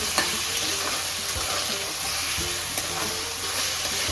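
Potato ragda for a fasting dish sautés in a pan, giving a constant close sizzle with a few scraping stirs and light knocks of a spoon, no one talking.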